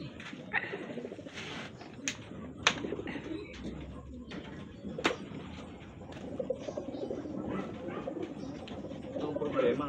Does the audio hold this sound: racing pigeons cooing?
yes